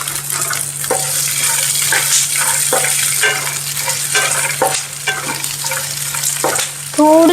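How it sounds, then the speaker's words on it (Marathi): Boiled, cut potatoes frying in a pan, a steady sizzle broken by repeated scraping stirs at an even rhythm, close and loud with no talk. "थोडेसे परतून घ्यायचे आहे बटाटे थोडे होतपर्यंत"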